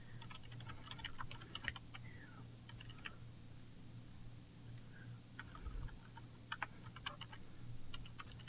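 Typing on a computer keyboard while entering a serial number into label software: irregular bursts of light key clicks with pauses, close and soft over a steady low hum, no speech.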